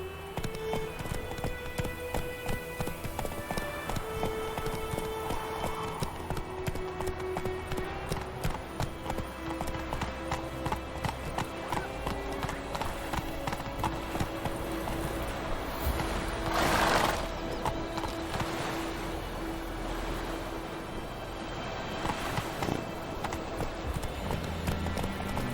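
Hooves of the horse Roach galloping in The Witcher 3, a steady rapid clip-clop running throughout under a game music bed, with a brief surge of noise partway.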